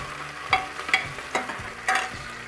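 Onions and potatoes being stirred in a frying pan, with four or five distinct scraping strokes over a soft background sizzle, close and moderately loud, no voices.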